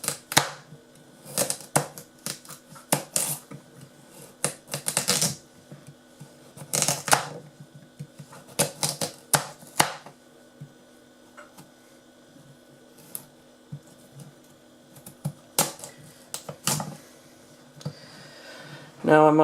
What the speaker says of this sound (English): I'm just going to cut these carrots into circles